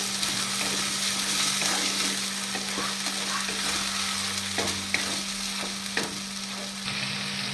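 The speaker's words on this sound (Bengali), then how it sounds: "কাটা মশলা দিয়ে ভালো করে নাড়াচাড়া করে নেব" Whole spices fry in goat fat and get stirred, a continuous crackling sizzle with a low steady hum beneath and occasional sharp clicks and scrapes of the spoon against the pan.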